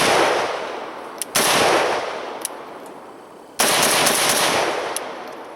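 Rapid automatic fire from an AK rifle with an underfolder stock, two loud sustained bursts of shots outdoors with ringing decay between them.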